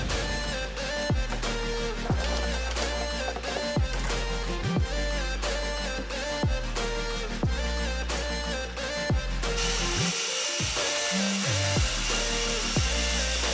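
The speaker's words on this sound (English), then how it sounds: "this is not the way you're supposed to use a circular saw" A circular saw cuts a wooden board, the blade whining in repeated passes with rhythmic dips as it bites, then the motor spins down and noisy rasping follows.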